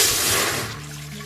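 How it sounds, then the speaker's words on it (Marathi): Water pours into a cooking pot in one brief, close gush that trails off into a lighter trickle. "आता मी या ठिकाणी भगोणं ठेवलेलं आहे। त्याच्यामध्ये आपल्याला पाणी ॲड करायचं आहे।"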